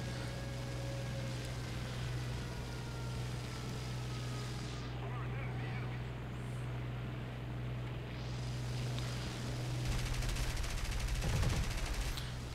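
Rapid bursts of a BF 109 K-4's machine gun fire in War Thunder, over a constant engine drone, loudest near the end.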